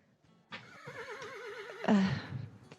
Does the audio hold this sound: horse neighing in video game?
yes